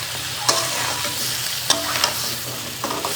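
Potatoes and fried tengra fish sauté together in a pan, a constant sizzle broken by a few sharp scrapes and clinks of a spatula against the metal.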